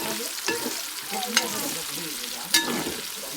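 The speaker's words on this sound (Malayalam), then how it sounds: "നന്നായിട്ട് ഇളക്കി കൊടുക്കുക" Tomatoes frying in a cooking pan are stirred, with a steady close sizzle and three sharp utensil scrapes against the pan spaced about a second apart.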